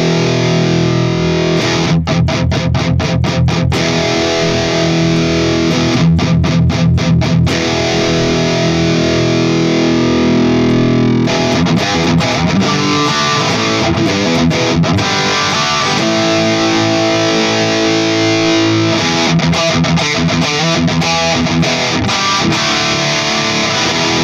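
Electric guitar played through an amplifier on its overdriven distortion channel, recorded at home, with bursts of fast chugging strums, sustained crunchy chords and tight palm-muted stops, loud and alone throughout.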